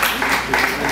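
A church congregation claps in praise at a Christmas service, a dense, steady wash of many hands close by that fills the whole short moment without pause.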